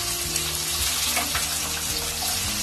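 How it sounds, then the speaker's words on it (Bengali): Chopped onion hits hot oil in a pan while cooking Bengali jackfruit and prawn curry, giving a steady, close sizzling hiss that lasts throughout over a faint low tonal background. "তেলের মধ্যে দিয়ে দেবো কেটে রাখা একটা পেঁয়াজ।"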